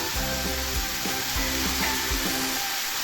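Cooked cowpeas stir-fried with banana flower for thoran, a continuous close sizzle under a spoon scraping the pan in rhythmic strokes about three times a second.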